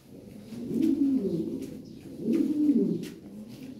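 Lahori pigeons coo in two soft, rolling phrases about a second and a half apart, fairly faint and close, with no talk over them.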